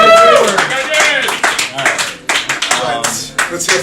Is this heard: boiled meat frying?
no